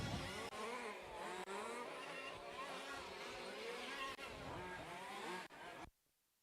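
1/5 large-scale RC race cars run on a racetrack, a high-pitched buzzing engine whine that rises and falls continuously for several seconds before cutting off abruptly.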